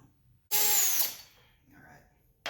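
Power drill bites into a guitar's wooden neck pocket to start a hole, a loud half-second burst of whirring that fades, with a brief second whir and another onset at the end.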